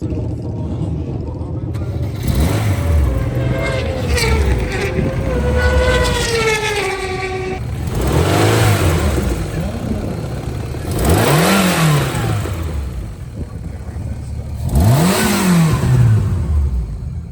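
Drag racing car at Santa Pod with a sticking idle control valve, engine idling roughly and then blipped through several loud, rising revs that fall back to idle, close by.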